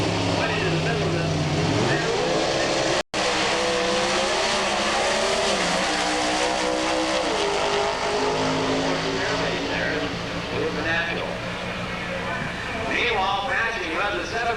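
Pro Stock drag cars, including a Chevrolet Beretta, roar down the strip at the 1988 NHRA US Nationals, their engines rising and shifting in pitch under continuous announcer commentary, with one brief dropout.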